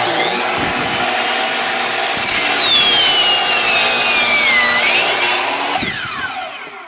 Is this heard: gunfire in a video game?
no